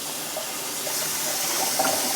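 Water running steadily past into a toilet cistern's overflow pipe after the fill level was raised, a continuous close trickling rush at an even level throughout.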